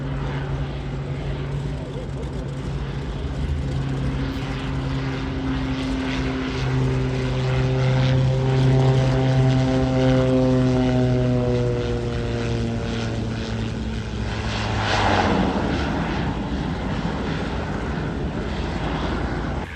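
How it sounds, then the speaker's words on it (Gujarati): A seaplane comes in to land near Vancouver, its propeller engine droning loud and steady before the pitch slides downward as it passes and fades, with outdoor ambience throughout. "તો આ સી પ્લેનનું લેન્ડિંગ થઈ રહ્યું છે."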